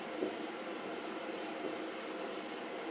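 A word written by hand, the pen producing a faint, steady scratching rasp that keeps going at low volume with small strokes picking out the letters, and no one talking.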